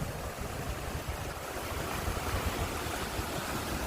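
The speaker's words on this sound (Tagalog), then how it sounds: "Yan sila yung waterfalls dito." Water rushes over a waterfall in Millennium Park in Peterborough, Canada, a dense, constant roar that stays steady and fairly loud with no voices.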